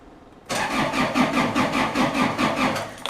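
A Ransomes lawn mower engine cranks over slowly on its starter after the glow plug is held on, a steady rhythmic churning of roughly a dozen labored turns that begins abruptly and carries on loud and close with no talking.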